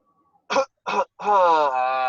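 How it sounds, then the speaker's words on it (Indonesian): A person coughs into a tissue, two short sharp coughs in quick succession, then a longer voiced, throaty sound, close and clear. "Baru batuknya bisa begini."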